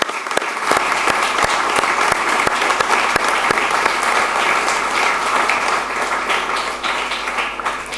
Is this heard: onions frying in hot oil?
no